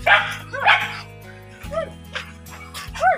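A puppy barks and yips several times in short, high bursts, separated by pauses, over a low steady hum of background music or machinery.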